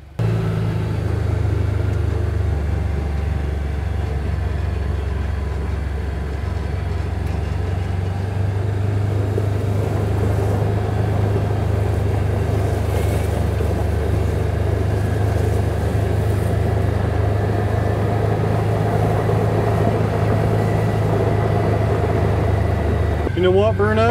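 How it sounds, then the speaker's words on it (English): A tractor engine rumbles steadily at a constant low drone throughout a ride, close and continuous, with a brief rise near the end. "Looks like we're going to be riding the tractor instead."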